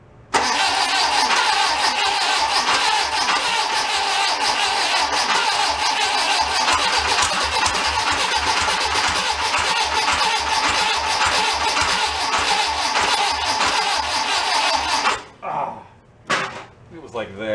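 Barn-find air-cooled VW Beetle engine cranking hard on its second attempt to start, a loud, steady mechanical churn running about fifteen seconds before cutting off, followed by a couple of brief bursts.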